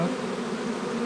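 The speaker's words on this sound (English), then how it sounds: "Come on, little queen bee, go into the hive. I don't want you to fly" A swarm of honey bees buzzes loudly and steadily beside the hive, high up on a tree limb, a dense continuous drone close by with no speech.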